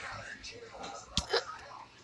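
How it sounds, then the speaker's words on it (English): A man outdoors on a freezing day hiccups once, a short sharp catch standing out against low background sound and faint breathy voice noise. "I have the hiccups."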